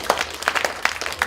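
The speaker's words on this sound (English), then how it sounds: "If you can hear me now, clap 3 times." A short burst of scattered clapping from a crowd, a handful of uneven claps close together, loud and brief.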